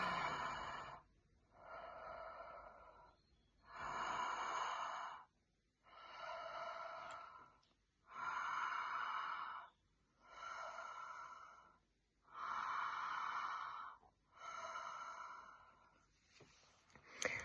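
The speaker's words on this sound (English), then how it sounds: "we're going to be doing the conscious connected breath" Conscious connected breathing exercise: slow, deep in-breaths followed by passive releases, repeating in a steady rhythm about every two seconds, close and clear with no talking.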